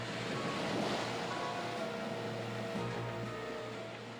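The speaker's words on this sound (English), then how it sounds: "Waves crash against the coast with enough energy to turn over cars and destroy buildings." Ocean waves crashing against the coast, a continuous broad wash of surf with wind noise, fairly distant and steady, fading slightly at the end.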